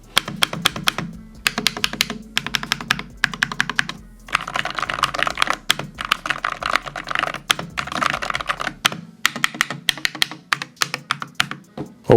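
Keys clatter on a Monsgeek mechanical keyboard during a sound test, with quick bursts of close, crisp clicks broken by short pauses.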